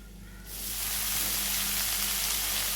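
Amaranth leaves tossed into a hot pan with fried urad dal vadiyalu, a sudden loud sizzle that swells and holds as a steady crackling hiss.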